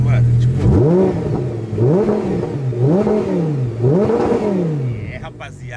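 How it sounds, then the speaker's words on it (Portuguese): An Audi R8 engine revs up and falls back four times in a row, each swell loud and close, with someone speaking briefly alongside. "Esse é o ronco do carro"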